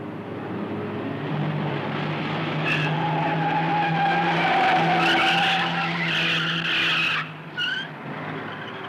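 A car driving fast with tires skidding and squealing, a loud sustained engine roar with sharp tire screeches rising over it, close and continuous.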